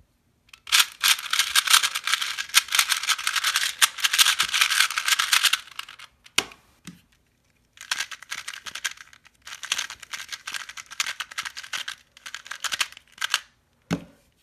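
Rapid plastic clicking and clacking of a 2x2 speed cube being turned, close and steady in two long bursts separated by a brief pause, with no talking.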